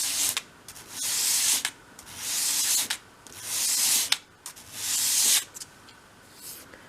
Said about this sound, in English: hold the piece at a 45-degree angle on your sandpaper and sweep it across the sandpaper